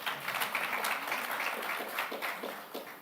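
Audience applause at a Safaricom full-year results presentation, a steady moderate wash of clapping lasting a few seconds, fading slightly at the end.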